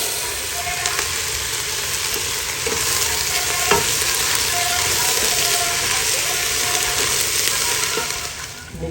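Vegetables and rice sizzle and hiss steadily in a hot pan while being stirred, a dense, even frying noise with faint scraping and clinks throughout and no talking.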